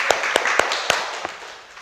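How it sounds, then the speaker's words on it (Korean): A lecture audience gives a brief, thin round of applause: a handful of separate, fairly close claps in an irregular rhythm that fade out within a couple of seconds. "박수 치려면 좀 이렇게 크게 쳐주세요"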